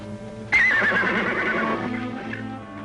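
A horse gives a loud, close whinny that rises sharply and trembles downward for over a second, then trails off into a quieter breathy end, heard alone without talk.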